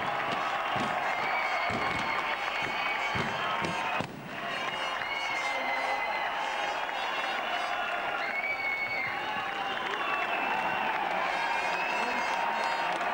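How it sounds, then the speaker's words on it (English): Large crowd applauding and cheering outdoors for V8 Supercar champion Marcus Ambrose, a loud continuous wash of clapping that barely dips, with voices calling out within it. "we'd ask you all to give a nice round of applause to the 2003 V8 Supercar Champion"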